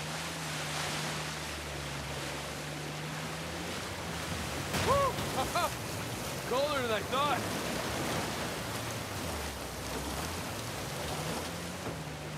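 A waterfall in the video game Uncharted 4 roars as a steady, dense wash of rushing water, with voices briefly speaking over it midway.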